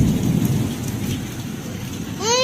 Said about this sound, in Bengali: বৃষ্টি বৃষ্টি পড়ছে